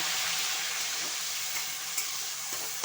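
Garlic, ginger and onion paste hits hot ghee and fries with a steady, close, bright sizzle that holds evenly throughout, with a couple of faint stirring knocks.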